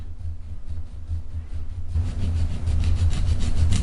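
A file rasps back and forth against an acrylic gel nail on a square tip, quick regular strokes that grow louder and denser midway, close up, no talking.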